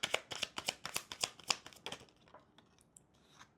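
Tarot cards are shuffled in a quick run of crisp riffling flicks, close and soft, fading into a few scattered light taps.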